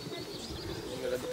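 A racing pigeon circles and drops onto the loft as birds return from a race, with soft, close cooing and bird calls over steady outdoor ambience.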